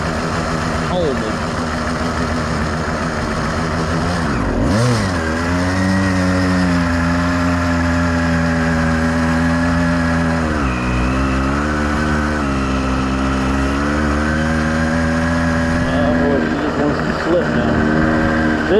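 An 85cc iron-sleeve motorized bike engine with a slipping clutch runs loud and close, idling steadily, then revving up and falling back in uneven surges, with a rider talking over it.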